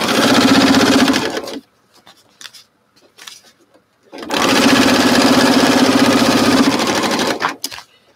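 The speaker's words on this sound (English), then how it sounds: "I'm going to take and stitch this right here." Up close, a sewing machine runs a seam in vinyl: a loud, steady mechanical whir lasting about a second and a half, a pause filled with faint clicks, then a longer run of several seconds.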